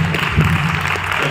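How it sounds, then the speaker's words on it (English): An audience at a biohacking summit in Dubai applauds a speaker as he comes on, a brief, steady patter of many hands clapping at moderate loudness. "a big round of applause for our next speaker"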